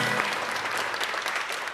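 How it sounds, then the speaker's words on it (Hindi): Audience clapping on a Pakistani talk show set, a brief, even wash of applause from a studio crowd with no voices over it. "इसमें तालियां बजनी चाहिए।"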